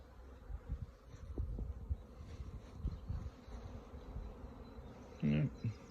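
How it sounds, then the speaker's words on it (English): Bees buzz around a row of apiary hives, including an Abelo hive, as a steady faint drone close by with a few louder passes, while a person speaks briefly near the end. "plenty of bees"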